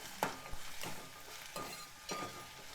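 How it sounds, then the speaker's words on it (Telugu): Ginger garlic paste, drumstick leaves and spinach being stirred in a pan, with a few separate scraping strokes at a steady pace over a soft sizzle. "ఇవన్నీ చక్కగా కలుపుకోవాలి"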